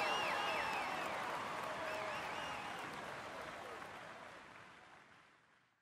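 Crowd applause in a Tour de France cycling video game swells loudly at first, then gradually thins and fades away over several seconds.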